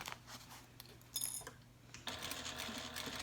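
A sewing machine runs pink thread through pink vinyl at a stitch length of about 3.5 with a half-inch seam allowance. It starts as a quiet, uneven mechanical whir, then settles into a louder, steady stitching drone for the last second or so.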